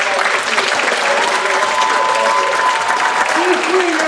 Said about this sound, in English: give Steve a big round of applause